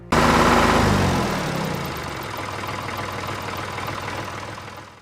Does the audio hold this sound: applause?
no